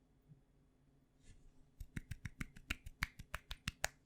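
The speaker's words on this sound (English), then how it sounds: "Why are you clapping?" A quick run of sharp hand claps, about a dozen in a steady rhythm, close and fairly soft, following a few scattered faint sounds at the start, with no talk over it.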